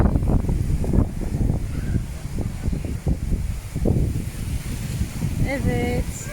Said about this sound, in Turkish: Demin de hala rüzgar var ama.